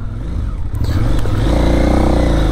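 A KTM 990 Adventure motorcycle's engine roars up close in the Dubai region of the United Arab Emirates, building from a rough rumble into a loud, sustained rev with no talk over it.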